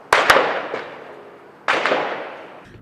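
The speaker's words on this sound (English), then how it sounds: "Gunshots ring out over Bankers Hill." Two loud, sharp gunshot cracks during a police standoff in San Diego's Bankers Hill, the first a quick double report, echoing and decaying between blasts, with a faint third pop at the end.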